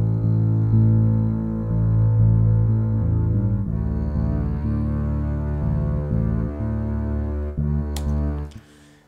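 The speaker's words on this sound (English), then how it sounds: "so if you add those basses together, they kind of sound like this." Layered legato string basses from a Logic Pro strings library, sent to reverb, playing a low sustained line with shifting notes, loud and continuous before fading at the end.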